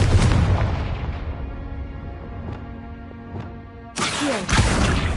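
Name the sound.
Confringo blasting spell explosion, from a video game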